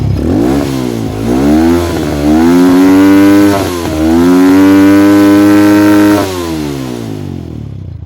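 A motorcycle engine revs up and holds during a stator coil charging test, rising and falling in two long, loud, close swells before easing back to idle.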